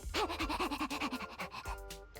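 Puppy in the game The Hundred Line panting in quick, rhythmic bursts close up, with a small whimper near the end.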